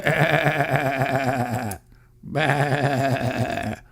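A voice imitates a sheep, a long wavering nasal bleat, a brief pause, then a second drawn-out bleat, loud and close.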